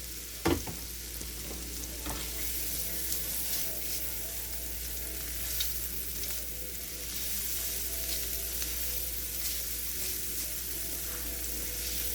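Garlic sautés quietly in a pan, a steady soft sizzle running throughout with a sharp clank near the start and a few faint knocks, no talking.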